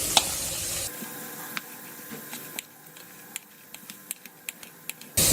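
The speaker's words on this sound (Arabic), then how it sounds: "هنحط فيها البيض ونقلبه كويس" A spatula stirs egg into leftover rice in a pan, giving a series of sharp scraping clicks and taps at irregular intervals over a faint sizzle, close and without talk.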